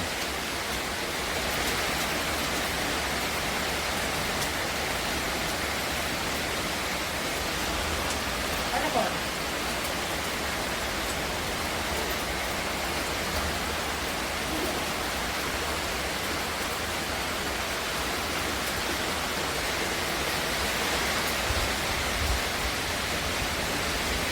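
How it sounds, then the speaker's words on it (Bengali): Heavy rain pours down steadily over a village, a dense, even hiss that holds unbroken from start to finish at a constant level. "কেমন প্রচণ্ড পরিমাণে বৃষ্টি হচ্ছে"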